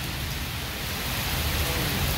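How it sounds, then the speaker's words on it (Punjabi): Heavy monsoon rain in the month of Sawan, driven by strong wind, roaring as a dense, steady, loud wash of noise with no talk. "ਤਸਵੀਰਾਂ ਤੁਸੀਂ ਦੇਖ ਸਕਦੇ ਹੋ ਤੇਜ਼ ਬਾਰਿਸ਼ ਦੀਆਂ"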